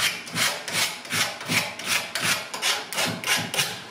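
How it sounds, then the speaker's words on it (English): Rhythmic scraping strokes on a wooden coffee table as wet paint is taken off, about eight even back-and-forth passes, close and clear with no talking. "if I scrape that, you can see that it's taken that bit off"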